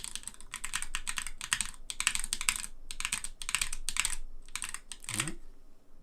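Clacky switches on a Haute42 B16 leverless button controller rattle under rapid presses in short bursts, close and crisp, with brief gaps between flurries of simulated gameplay inputs.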